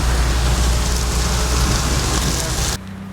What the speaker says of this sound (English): Really raining hard.